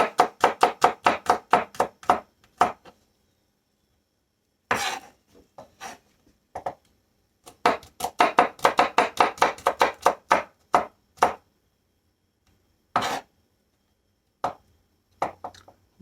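Vegetables are rough chopped for tailgate chili, a knife striking a cutting board in quick rhythmic bursts of sharp, close knocks, broken by short pauses and a few single chops.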